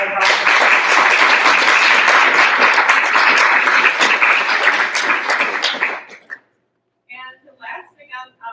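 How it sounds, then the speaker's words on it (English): A broad, steady round of clapping fills a board meeting room for about six seconds, then cuts off sharply, and a voice starts speaking after a short pause. "let's just give them all a round of applause"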